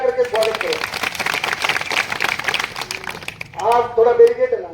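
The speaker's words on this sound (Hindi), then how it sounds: "सारा साथी जगह है, जोरदार ताली बजा करके स्वागत करो" Villagers at a protest rally clap loudly together in a sustained burst of applause welcoming guests, with a voice speaking before and after over an outdoor loudspeaker.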